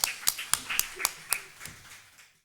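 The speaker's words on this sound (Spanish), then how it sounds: "Te damos un aplauso y comenzamos con la intervención de Ana" A few scattered hand claps, sharp and spaced, from a small conference audience applauding a speaker, tapering off into quiet.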